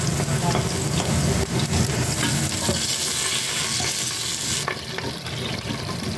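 Garlic sautéing in hot oil in a pan for Ilokano-style pinapaitan of goat innards, a loud, dense sizzle with stirring scrapes running steadily throughout and easing slightly near the end, without talking.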